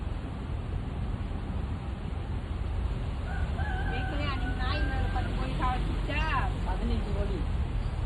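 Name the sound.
chicken crowing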